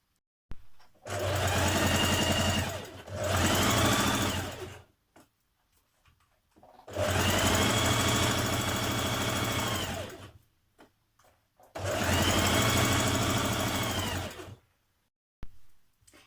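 Sewing machine stitching 1.5 cm seams on a Simplicity 8384 dress, running in three long loud bursts of steady rapid needle hammering with short pauses between and a brief stop-start at the end.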